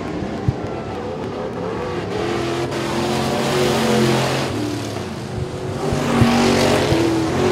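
Limited modified race cars roar around the dirt oval at Sabine Speedway, a steady, loud multi-car engine drone with swelling and fading passes throughout.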